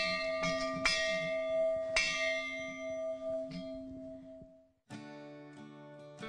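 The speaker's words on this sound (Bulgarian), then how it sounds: "На тръгване от тук има обичай туристите да бият камбаната 3 пъти за лек път." A bell in Sopot rung by tourists clangs several times close by, each strike leaving a long, rich metallic hum that fades before a final strike rings out fresh.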